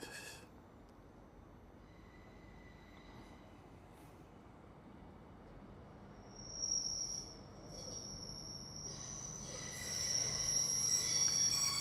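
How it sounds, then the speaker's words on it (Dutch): Train rolling into Groningen Europa Park station at night, a low rumble building as high metallic wheel squeals ring out intermittently and then swell louder, with faint crickets chirping in the background. "En de volgende trein die komt weer binnenrijden naar Groningen Europa Park."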